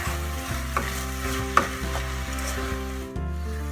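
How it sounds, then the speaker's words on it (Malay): Ingredients for meatball curry sizzle steadily in a hot pan while a utensil stirs and scrapes, with occasional clicks and a low continuous hum beneath. "Bahan yang saya masak ni, yang saya tumis sekarang ni"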